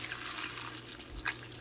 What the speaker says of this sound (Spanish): Le voy a agregar unas 4 tazas de agua, un poco calientita